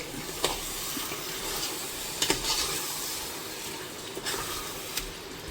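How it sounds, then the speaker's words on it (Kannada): Chicken biryani being stirred in a pot after salt goes in, a steady low sizzle and hiss with a few sharp scrapes of the spoon against the pot, close and alone without talk. "ಉಪ್ಪನ್ನು ಹಾಕಿ ಒಮ್ಮೆ ಕೈ ಆಡಿಸಿ"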